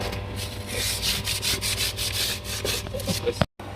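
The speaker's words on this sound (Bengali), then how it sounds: "এখন এই যে পাইপে ওয়েল্ডিং চলতেছে" A pipe extended for relocating an air conditioner is being welded, giving a close, continuous crackling hiss with rapid pulsing bursts, then a sharp click and a brief cutoff near the end.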